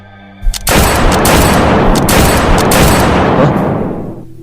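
A gunshot in an animated drama, one sharp close blast followed by a loud sustained roar of repeated gunfire that fades toward the end, with no talking.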